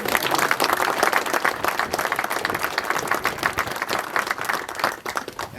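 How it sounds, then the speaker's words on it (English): Applause from a gathered audience at a wreath laying beside a grave in Kilbannon, a close, lively burst of many hands clapping with audible individual claps, fluctuating slightly and fading near the end. "give her a round of applause, please."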